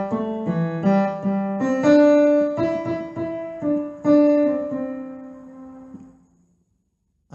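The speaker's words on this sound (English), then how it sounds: "And the melody is something like this." A simple melody picked out on a keyboard or piano, single notes in a steady rhythm with a few held tones, clear and close, fading out at the end.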